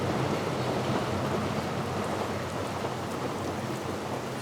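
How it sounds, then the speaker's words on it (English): Steady rain hisses evenly and close by, a dense wash of falling drops with no voices. "It looks like it started raining."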